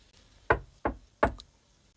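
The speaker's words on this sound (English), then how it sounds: "Red Riding Hood reached her grandmother's house and tapped at the door." Three sharp knocks on a wooden door, spaced about a third of a second apart, close and clear against a quiet background, in a storybook reading of Little Red Riding Hood arriving at her grandmother's house.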